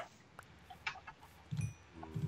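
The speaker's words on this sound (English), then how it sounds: "Chicken!" Minecraft chickens give soft, low clucks in two short bursts near the end, over a quiet game background with faint clicks.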